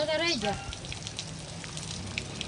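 Fine drizzle keeps up a faint, even patter after a brief burst of voice at the start.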